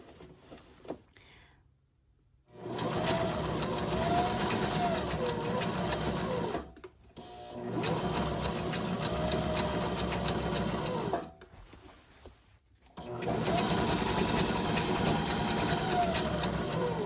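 A sewing machine runs three long top-stitching passes around a thick hobo bag, with the stitch length set to 3.5, its steady mechanical whirr stopping briefly between passes.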